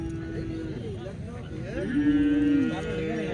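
Cows low at a newly opened cattle market in Vavi, Sinnar: a long deep moo is followed by a louder, sustained one, set against a constant murmur of market bustle.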